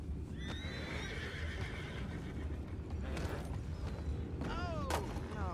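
Horses whinny in Red Dead Redemption 2, one call early and a sharper descending neigh near the end, over steady rumbling train-robbery noise with hooves.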